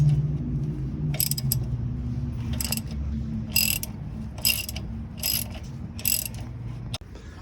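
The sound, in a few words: ratchet removing brake caliper bolt on 2002 GMC Yukon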